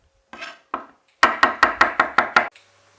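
A kitchen knife cutting food on a cutting board, with two separate chops followed by a quick run of six sharp, even knocks, close and loud with no talk.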